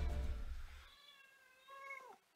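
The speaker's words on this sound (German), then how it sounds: "Habt ihr mitgekriegt, die Katze?" A house cat meows twice close by, a short rising call and then a longer drawn-out one that bends downward at the end, with no talking.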